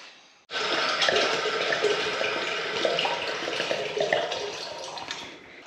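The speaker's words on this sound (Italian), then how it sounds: "possiamo prendere gratuitamente l'acqua dai rubinetti con questo accrocchio" Water gushes steadily from a tap through a makeshift adapter at a free camper stop on Fuerteventura, a loud continuous splashing rush that starts abruptly after a brief quiet moment.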